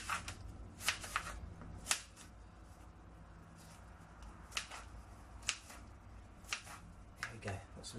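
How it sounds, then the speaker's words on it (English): A knife cuts apple into small pieces on a board for porridge toppings, a series of light, irregular close-up taps and clicks over a faint background. "I'm just going to cut this into some smaller pieces."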